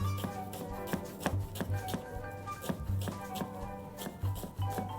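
A knife chops rolled-up food on a cutting board with quick, close, uneven taps, several in a row and then short pauses, with no talking.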